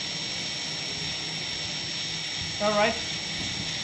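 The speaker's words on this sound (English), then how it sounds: "If you increase the throttle, all motors are running simultaneously." Multicopter motors on a KK flight control board whine together in a steady high-pitched drone as the throttle is raised, close and continuous, while someone briefly speaks over it near the end.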